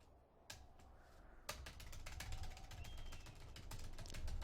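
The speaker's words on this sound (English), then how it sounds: "This is the sound of me hitting my shift key." A computer keyboard's shift key is pressed again and again, giving sharp plastic clicks that start sparse and then come in a quick, uneven run, close and fairly faint.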